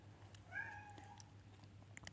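A pet cat meows once, a single rising-then-falling cry over a faint steady background hum, fairly quiet and close, with no talking.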